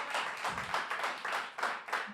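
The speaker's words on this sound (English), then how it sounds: "So let's give a round of applause for that." A live radio studio crowd applauds the launch of Denver's first all-local radio station, soft, diffuse clapping in swelling waves, fairly faint and distant throughout.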